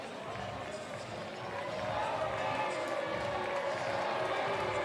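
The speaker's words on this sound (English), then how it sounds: "Boos from the crowd" A crowd boos at a 2021 USA Club 7s men's cup quarter-final rugby sevens match between Life West and St Louis Bombers, a dense, sustained wash of voices that swells midway and holds, with commentary talk underneath.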